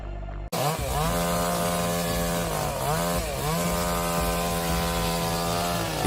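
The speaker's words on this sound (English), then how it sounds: "With clever thinking and precise straight cuts, the lumberjack saw gradually takes down this monster." Chainsaw cutting into a burnt cedar tree during felling, the engine snarling loud and close after a brief silence, its pitch rising and dipping as the bar bites through the wood.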